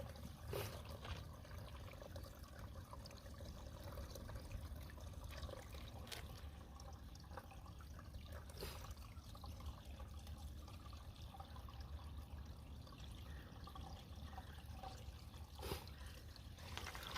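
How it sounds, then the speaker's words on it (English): Water trickles steadily into a bag at a small drop-off on a kayaking trip, a faint continuous dribble with a few soft splashes and no talk. "I'm just going to fill up the bag and then we'll filter it from there"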